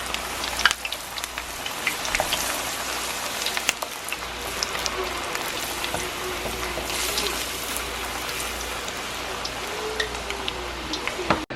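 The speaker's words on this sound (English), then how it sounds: "Making our homemade fries." Homemade fries sizzle steadily in hot oil, a soft continuous crackle like light rain with scattered pops, fairly faint, with faint voices in the background.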